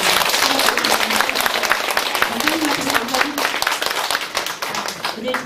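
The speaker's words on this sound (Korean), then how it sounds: "선생님한테 감사의 박수 한번 보내주세요" An audience at a lecture on women's health applauds with dense, continuous clapping for several seconds, close and loud, while a voice speaks over it.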